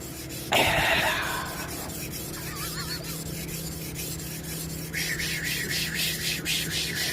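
A badly damaged cleaver is sharpened, with close, rasping strokes across the blade, one strong initial scrape followed by softer continuous grinding and a bright hissing stretch near the end.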